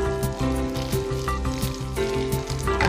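Onions hit hot oil already tempered with dried red chillies and spices, giving a moderate frying sizzle and crackle beneath steady background music.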